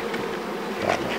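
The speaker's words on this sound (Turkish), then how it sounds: "Evet, arılar gün vermeyecek diyor Sebahattin Usta." Honeybees around a traditional log hive during a honey harvest in Korualan, a dense close buzzing swarm droning steadily with no voices.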